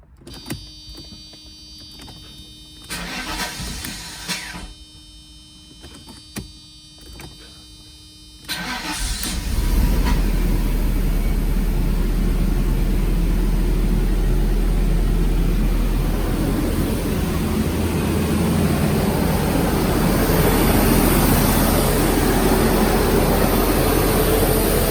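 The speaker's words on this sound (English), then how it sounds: "This is gonna be the first start since relearning the throttle body." A Mercedes R129 engine cranks and catches on its first start after a throttle body relearn, preceded by quieter mechanical clicks and whirs, then settles into a loud, steady, close idle with no talking.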